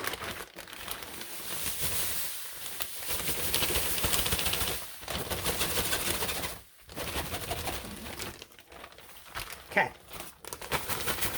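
A plastic bag crinkles and rustles almost continuously up close as dye is transferred into it, with brief pauses and a short spoken word.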